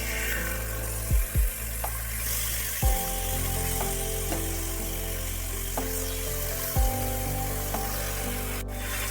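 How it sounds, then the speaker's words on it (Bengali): Marinated chicken hitting hot fried onions in a pan, giving a steady bright sizzle with several sharp clunks as pieces go in and get stirred, no talking. "এবার ম্যারিনেট করে রাখা চিকেনটা আমি এর মধ্যে দিয়ে দিচ্ছি।"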